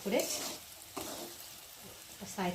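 Potatoes with turmeric and salt fry softly in a pan, giving a quiet crackle with brief stirring noises and faint voice fragments.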